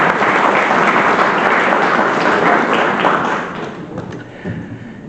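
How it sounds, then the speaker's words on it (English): An audience at a sports awards ceremony claps in a dense, loud round of applause that holds steady, then thins out and fades toward the end. "give yourself a nice round of applause"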